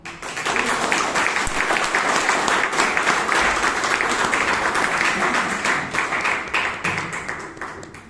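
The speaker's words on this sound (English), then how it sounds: "With a loud round of applause, welcome today's table topic master, Toastmaster Aditya." Sustained applause from the audience at a Toastmasters club meeting in Bangalore, dense steady clapping filling the room for about eight seconds before tapering off near the end.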